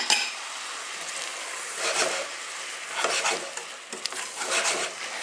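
Sugar stirred into a pan of courgette and raisin chutney over the heat, a wet scraping swirl with soft sizzling and intermittent clinks of a spoon against the pot.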